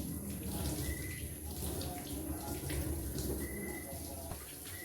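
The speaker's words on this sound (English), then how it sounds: "Rinse hands thoroughly with water flowing toward the fingertips." Tap water runs steadily over hands being rinsed under a faucet during a handwashing demonstration, a continuous splashing hiss at moderate level with no speech over it.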